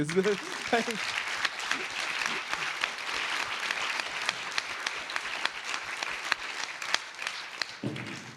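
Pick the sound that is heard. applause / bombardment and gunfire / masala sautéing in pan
applause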